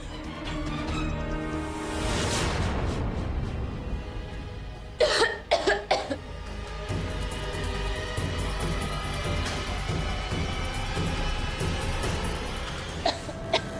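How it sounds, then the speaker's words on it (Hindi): A woman coughs in a harsh burst, followed moments later by a rapid cluster of sharp coughs over a steady background rumble. "तुम इतना खांस क्यों रही हो?"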